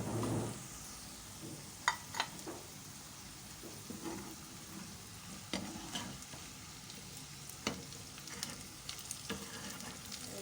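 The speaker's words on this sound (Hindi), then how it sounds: "आलूओं पे अच्छे से हमारा हल्का सा गोल्डन कलर आना जैसे ही स्टार्ट हुआ, हमने इसमें प्याज डाले हैं" Onions added to half-cooked potatoes in a pan sizzle with a steady hiss, broken by sharp clacks and scrapes of stirring at irregular moments, close up and without talk.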